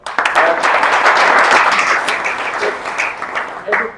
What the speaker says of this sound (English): We'll give a round of applause to those guys.